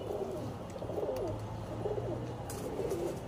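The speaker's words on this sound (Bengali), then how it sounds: "এটা মাদি কবুতর" A female pigeon kept at home coos in low, steady, rolling calls that repeat throughout, fairly faint over a constant background hum, with no talk.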